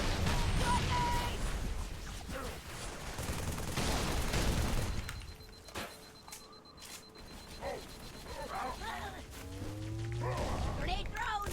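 Automatic rifle bursts in Halo 3, dense and loud in the opening seconds among chaotic combat noise, then sparser shots and effects with voices talking over the action.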